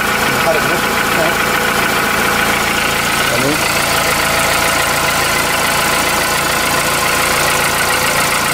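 Volkswagen Polo 4 engine running with an abnormal noise, a steady close mechanical drone and idle with faint irregular knocking, continuous throughout with a voice briefly audible underneath.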